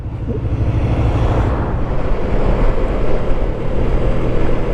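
A Honda VFR800FE touring motorcycle's engine revs hard and steadily at high rpm using its quick shifter, a loud, continuous drone dominated by engine and wind noise, with no talking.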